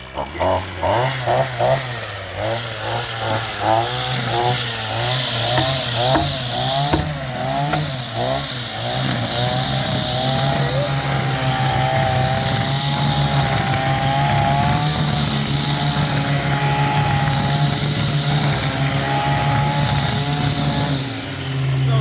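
A RedMax BCS260 two-stroke string trimmer engine runs close by, starting with choppy throttle blips and then settling into a loud, steady high-pitched wind-out.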